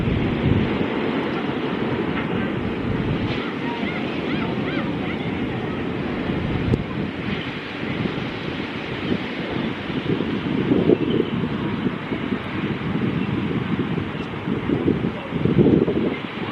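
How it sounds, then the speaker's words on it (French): Ocean waves wash steadily onto a Punta Cana beach, a continuous broad surf roar with gentle swells and some wind rumble, no voices. "Posé sur le bord de la plage, je vous laisse écouter les vagues."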